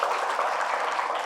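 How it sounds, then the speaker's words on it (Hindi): Loud, steady applause from an audience gathered at a Buddhist vihara, continuous clapping with no break. "चलिए जोरदार तालियां इनके लिए।"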